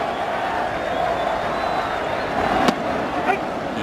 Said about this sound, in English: He heard another serenade from the Shea Stadium crowd as he headed to the Atlanta dugout.